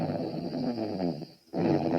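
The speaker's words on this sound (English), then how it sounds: "It sounds like snoring." Cartoon pig character snoring inside a camping tent, a low rumbling drawn-out snore with a brief quiet pause before it resumes, close and fairly loud with no talk.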